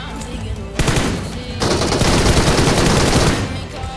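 Dense automatic gunfire in the mobile battle royale game BGMI, loud, sustained rapid bursts dominating the mix with a brief gap between volleys.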